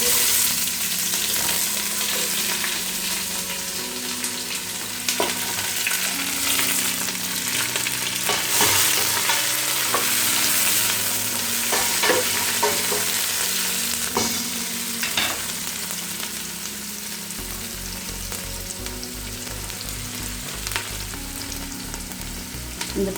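Sliced onions fry in hot oil with two bay leaves for a soya veg biryani, giving a steady, close sizzle with occasional scraping stirs and no talking.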